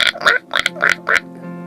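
A human voice mimics a duck's quack in a string of four or five short, nasal, rhythmic calls, close and clear, then trailing off into quiet.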